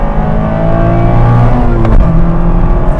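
A 2024 Mazda MX-5 Miata RF GT sports car accelerates hard, its engine note loud and steady from inside the car with rising harmonic drone and a brief shift near the end.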